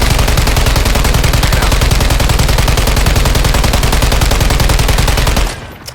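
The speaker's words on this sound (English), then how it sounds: "if I just shot this wall right here" Sustained automatic gunfire from a weapon in the Warzone video game, fired with the trigger held at a wall: a rapid, steady stream of loud shots for about five seconds, then it stops abruptly.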